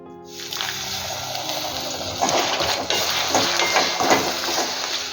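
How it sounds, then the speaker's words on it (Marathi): Water runs and gushes steadily into a container of jaggery for several seconds, a continuous splashy pour close by with a few faint clinks. "किंचित पाणी टाकायचं गुळ वितळण्यासाठी"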